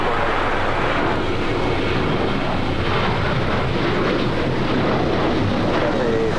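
A jet airliner takes off from runway 25 right at Los Angeles International Airport, its engines roaring as a loud, steady wash of broadband noise that holds throughout.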